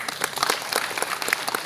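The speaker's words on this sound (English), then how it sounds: "Give him a round of applause." A brief round of applause from the audience at an IBM data and AI forum opening event, with many hands clapping in a quick, lively patter at moderate volume.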